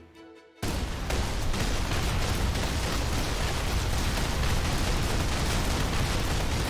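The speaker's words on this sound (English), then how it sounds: "I'll jump back into the Mega Mantis and fire next to it." In the Halo 3 mod, the Mega Mantis vehicle fires shells that burst into a dense, continuous roar of rapid explosions, loud and close, after a brief quieter moment at the start.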